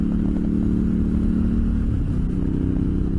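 A motorcycle engine idles and revs with added throttle on a desert trip, a loud, steady, close rumble that swells slightly midway, with no talking.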